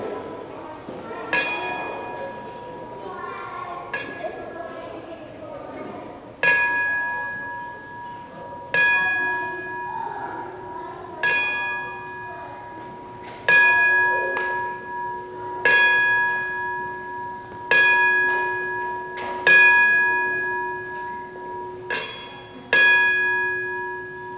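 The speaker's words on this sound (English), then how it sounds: "We're going to do a 10-bell crack in tribute of the Machine Can Steal." A wrestling memorial show's ten-bell salute: a ringside bell is struck ten times in slow, evenly spaced strokes. Each clang rings out loud and sustained, with a long fading tail, over a quiet hall with no talking.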